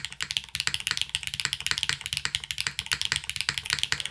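Someone types on a Clever Phi 60 mechanical keyboard, producing a fast, steady stream of close, crisp keystroke clacks with an even rhythm and no talking.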